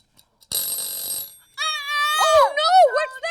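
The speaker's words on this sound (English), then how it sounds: "I'll get your kitchen timer." A kitchen timer rings during a children's cooking session, a bright metallic trill lasting under a second, followed by an expressive voice talking.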